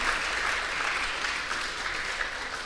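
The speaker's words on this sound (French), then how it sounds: "Est-ce qu'on peut l'applaudir là?" A congregation at a baptism service applauds, with thick, steady clapping that fills the space evenly and close for the whole moment, with no talk over it.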